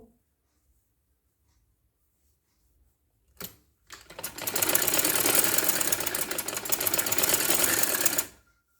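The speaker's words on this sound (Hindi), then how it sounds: "ये हम पूरी सिलाई करने जा रहे हैं।" A sewing machine stitches a shirt neckline. It starts with a short burst, pauses, then runs in a loud, steady whir for about four seconds before stopping. Quiet before and after, with no voices.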